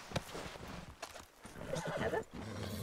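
Horse whinnying in the Western roleplay game RedM, a clear neigh among clip-clopping hooves and background game noise, loud and close throughout.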